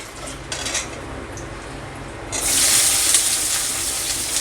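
Chopped onion tipped into a pan of chicken lal jhol tempering with bay leaf, dry chillies and whole garam masala, with clinking utensil stirring at first, then a sudden loud, steady sizzle that fills the rest of the clip.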